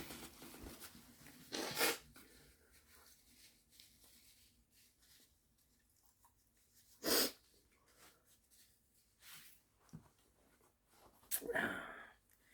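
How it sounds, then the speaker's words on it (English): Several bursts of nose blowing and sniffing, close and fairly loud, spaced apart over a quiet rustling background, with one sharper burst near the start. "Sneezing and blowing, yes."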